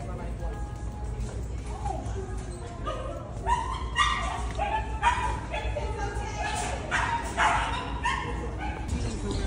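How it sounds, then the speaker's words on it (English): A dog barks and yips excitedly at another dog outdoors at a park, a rapid series of barks and whimpers running under ongoing talk and background chatter. "Nay, she seen another dog and lost her mind."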